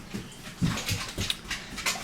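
Dogs whimper and whine in short, repeated high-pitched bursts spaced irregularly through the clip, fairly close, with faint yips mixed in and no talking.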